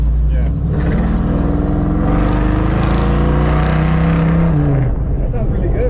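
A modified car engine with a cam revs loudly and close, rising and falling in pitch with a lumpy idle beneath, while people talk over it.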